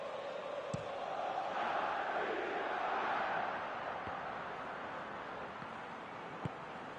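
A football stadium crowd during a Chelsea match keeps up a steady, broad roar of cheering and murmur that swells slightly in the middle, with a few sharp claps or thumps standing out.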